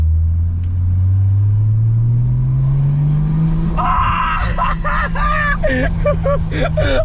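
A Nissan Skyline R34 GT-T accelerating, its engine note climbing steadily in pitch as a loud, close rumble; excited voices break in over the engine during the second half.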